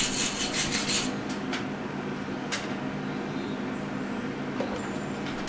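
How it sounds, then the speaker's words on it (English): A stainless steel wire brush is scrubbed over a weld zone during a crack repair, a close, steady scratchy rubbing heard alone for several seconds, with a few sharper strokes near the start. "I'm using a stainless steel wire brush to clean up the weld zone."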